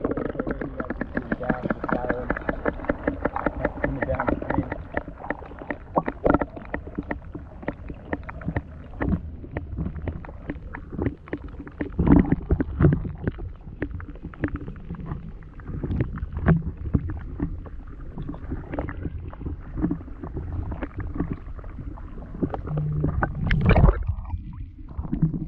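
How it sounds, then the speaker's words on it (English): A kayak drifts downstream through a shallow stream, its hull and paddle making continuous close gurgling and washing water sounds with low rumbling bumps throughout. "My kayak was kind of pushing them downstream a little bit"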